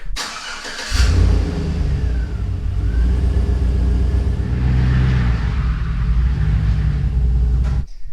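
A large pickup truck engine, a 2007 Chevrolet Silverado Trail Boss, cranks and catches around the one-second mark, then settles into a steady, loud, close rumbling idle that runs until the end.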